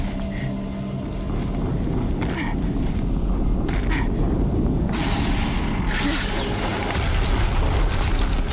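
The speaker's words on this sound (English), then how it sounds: "Another explosion." A rumbling explosion in the video game Horizon Zero Dawn, modded, a heavy low roar that swells and sustains for several seconds with crackling debris noise layered on top.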